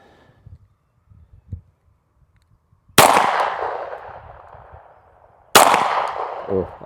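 Two loud, close gunshots at a target crack several seconds apart, each ringing out with a long decaying echo, after soft handling noises.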